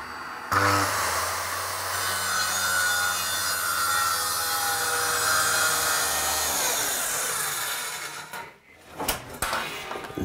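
A saw cuts into a wooden board during a farmyard renovation, making a steady close rasping grind for about eight seconds before it stops, followed by a few clunks.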